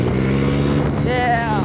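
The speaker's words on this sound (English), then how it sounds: "there goes the moped" A moped engine buzzes past close by during a backyard race against a motorcycle and a mini bike, its note climbing as it passes, with people talking over the steady engine drone.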